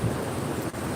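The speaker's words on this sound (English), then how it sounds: "Just seeing the ocean or hearing the waves can help our" Ocean waves wash onto a beach in a steady, broad roar of surf mixed with wind buffeting the microphone, continuous and fairly close with no voices.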